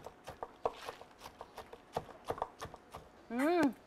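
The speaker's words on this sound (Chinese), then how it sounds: "给它剁细" Knife on a board finely chopping crisp dry-fried chilies and Sichuan peppercorns in a home kitchen, a steady run of close, sharp taps at uneven rhythm, ending in a brief high-pitched whine.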